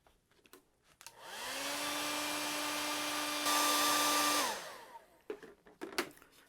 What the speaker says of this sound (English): So let's hit that with the dryer.